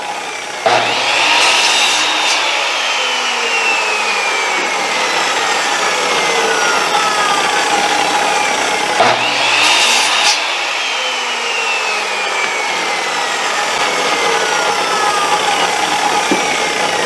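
A power miter saw cutting wooden boards against a stop block in a workshop: two separate loud cuts, each with a motor whine that winds down slowly afterward, close up with no talking.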